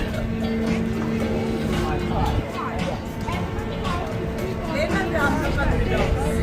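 Low, steady rumble of a boat engine running continuously in London, with a crowd's chatter and voices mixed in nearby.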